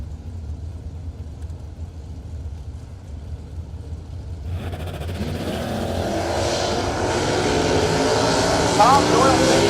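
Drag racing cars, including an 82 Camaro, launching at a creek drag strip: engine rumble builds into a loud roaring run in the second half, with an announcer talking over the early part.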